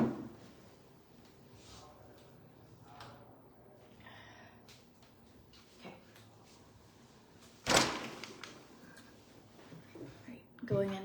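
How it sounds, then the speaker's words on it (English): A room door is pushed shut with a single sharp thud partway through, following quieter handling noises and preceding a brief spoken word. "Let me shut this door so you don't hear them talk about guitars."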